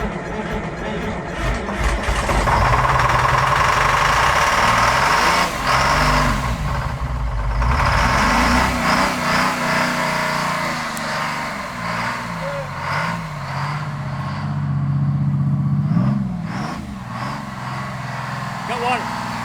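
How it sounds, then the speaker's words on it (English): A boat's starboard engine cranks and starts, then runs with a rough, loud rumble that fluctuates throughout, with people talking intermittently over it. "Operational test, starboard engine."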